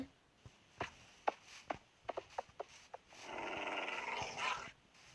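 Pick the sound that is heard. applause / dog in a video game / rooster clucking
dog in a video game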